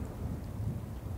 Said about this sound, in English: Oh, there's another storm coming.